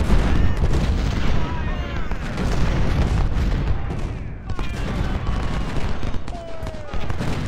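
Constant dense musket volleys and booming artillery rumble in a Civil War battle at Gettysburg in a strategy game, loud and continuous with overlapping reports throughout.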